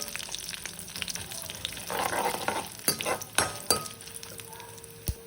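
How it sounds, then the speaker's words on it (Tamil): Vadagam stirred in hot oil in a pan, a soft continuous sizzle with scraping spoon strokes and a few sharp clinks against the metal. "நல்லா கிளறி விட்டுக்கோங்க. ஸ்லோவில் வச்சுக்கோங்க, அப்போ தான் வடகம் தீயாது."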